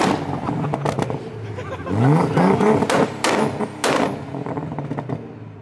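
Nissan Skyline Tommy Kaira edition engine revving, with a rising rev sweep and a few sharp bursts and pops, close and loud, while people talk and react excitedly over it.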